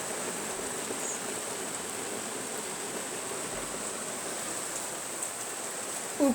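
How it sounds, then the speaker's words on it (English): Steady, loud rain pours continuously with a dense, even hiss, heavy and close, without pause, and ends with a brief knock at the very end. "It's raining."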